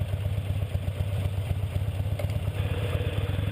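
A motorcycle engine runs steadily as the bike is ridden, giving a continuous low rumble close by with no talk over it.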